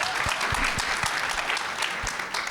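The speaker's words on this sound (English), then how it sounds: "Yes, you can clap for that." Audience applause fills a community breakfast gathering, a steady wash of clapping hands sustained throughout without voices on top.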